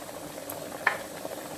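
Fish curry with sour bamboo shoots simmering in a pot, a soft steady bubbling with one brief louder pop, quiet and close.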